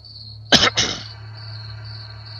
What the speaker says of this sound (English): I ended up coughing down the microphone